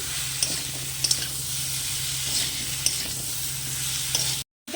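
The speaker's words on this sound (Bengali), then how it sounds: "আর দেবো হলুদ গুঁড়ো দিয়ে ভালো করে কষিয়ে নেব" Papaya pieces with salt and turmeric powder fry in a pan, a steady close sizzle with occasional light clicks of stirring, cutting out abruptly near the end before resuming briefly; nobody speaks.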